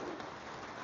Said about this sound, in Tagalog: At ang weather natin ngayon sa labas ay ayan, umulan na nga.